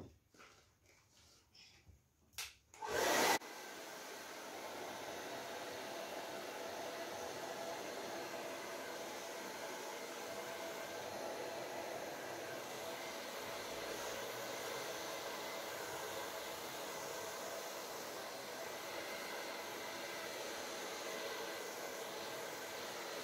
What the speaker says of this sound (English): I'm going to use my blow dryer just to spread it a little bit more evenly